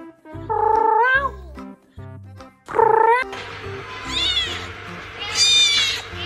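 Cat meowing up close, several rising and falling meows in a row, fairly loud and mostly alone, with a low background hum.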